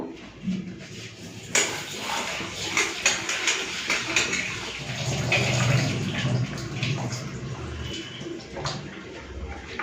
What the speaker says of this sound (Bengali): এখন আমি ডালটা ধুয়ে নেবো